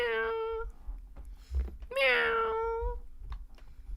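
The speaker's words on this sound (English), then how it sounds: "Can I get a meow?" A cat meows twice up close, a short cry followed after a pause by a longer, drawn-out one, with faint low rumble between.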